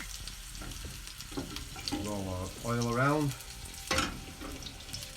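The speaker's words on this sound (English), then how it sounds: "into the oil, I'm going to add the sage leaf. As you can see, that's sizzling very nicely straight away" Sage leaves sizzle and crackle in hot oil in a pan, a soft steady frying hiss, while a person speaks briefly over it.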